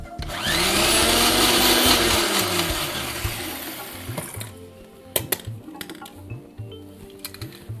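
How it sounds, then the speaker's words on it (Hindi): A kitchen mixer grinder whirs loudly for about four seconds while grinding chutney, then cuts out, leaving the contents settling with scattered clicks, taps and knocks of the jar and lid. "तो ये चटनी आप चाहें तो इसको थोड़ा सा कोर्स यानी कि दरदरा पीसें, या फिर महीन चटनी"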